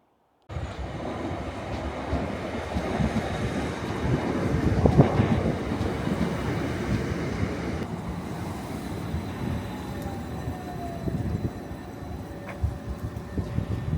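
A train at a station in the south of England, a steady rumbling roll with wind buffeting the microphone and a faint high squeal near the end, no voices.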